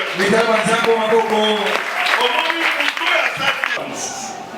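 A church congregation applauds in a steady patter of many hands while voices and a loud announcer talk over it, ending with a brief quieter tail.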